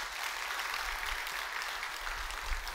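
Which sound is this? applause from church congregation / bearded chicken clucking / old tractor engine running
applause from church congregation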